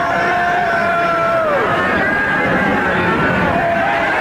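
Loud, dense roar of Toronto Blue Jays baseball fans cheering in a stadium, a continuous wash of shouting and babble with a few sustained whistles or horn-like tones riding above it throughout.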